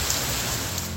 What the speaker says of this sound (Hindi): कराची में मौसम सरमा की पहली बारिश